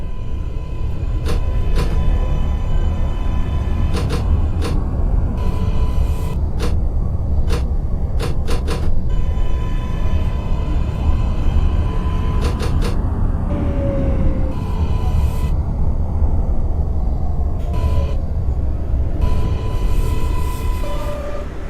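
New York City Subway R142A train running in the OpenBVE simulator, a loud, continuous rumbling drive with repeated clicks and short tonal whines from the motors, and no voices.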